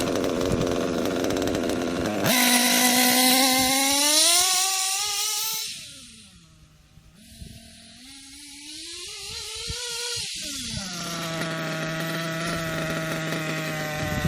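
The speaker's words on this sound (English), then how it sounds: "Let's make a wide open throttle pass." A nitro RC model engine screams at wide open throttle, a loud high-pitched whine climbing, dipping briefly, then holding steady at a sustained buzzing pitch without any talk.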